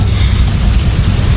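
Heavy rain pours down in a dense, steady hiss while a deep rumble of thunder rolls continuously underneath, loud and close throughout the brief moment, with no voices.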